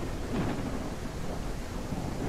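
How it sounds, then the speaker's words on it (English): Heavy, loud rain pours steadily throughout a rainy scene in the zombie survival video game No One Survived, a dense wash of noise with no clear breaks. "It makes it a little difficult to hear them because of the rain."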